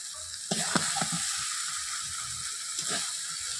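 Malabar spinach leaves with spices fry in a pan, with a soft continuous sizzle broken by a few sharp scraping and clinking strokes of a spatula. The sound is close and fairly quiet, and no one speaks.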